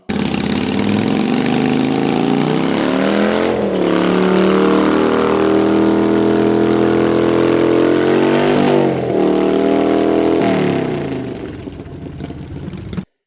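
A Harley Sportster motorcycle engine runs loud and close, its rumbling note rising and falling through several revs before easing off near the end, with no voices.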